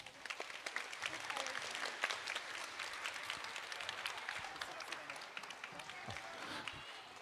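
Applause from the audience at an elementary school end-of-year awards ceremony, a fairly faint, steady patter of many hands clapping that continues for several seconds.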